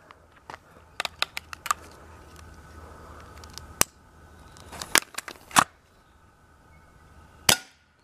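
A firecracker pellet air gun fires at a can: scattered sharp cracks and clicks, then a louder snap and a final sharp crack with a brief ring, close by in a quiet outdoor setting.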